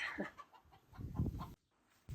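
Chickens cluck close by in short, soft bursts, a few overlapping calls before a brief pause and another cluck at the end.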